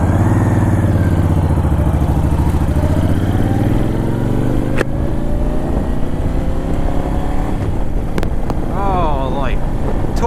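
A Honda Fury V-twin motorcycle rumbles loudly and steadily up close, its engine tone rising and falling with revs amid wind buffeting, and a rider's voice talks over it.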